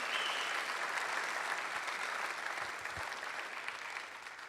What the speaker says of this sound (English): Can we give a round of applause to Marc?